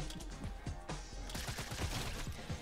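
Gunfire in the mobile video game Fortnite, a dense run of rapid shots over constant game sound, fairly steady and moderately loud for under three seconds.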